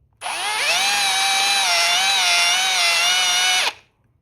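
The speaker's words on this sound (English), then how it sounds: "get your little drill, taper it like so, and then attach it" A small power drill whirs steadily for about three seconds, close and loud, while tapering a hole in the plastic main body of a Ghostbusters 2 trap replica, starting and stopping abruptly.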